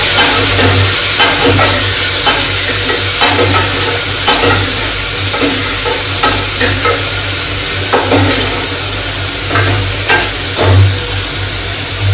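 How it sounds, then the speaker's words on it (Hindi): Potato, tomato, onion and green chili fry in oil with fenugreek seeds and cumin, giving a loud, steady sizzle throughout, broken by repeated scraping and stirring of the pan. "अच्छे से फ्राई होने देते हैं ब्राउन होने देते हैं"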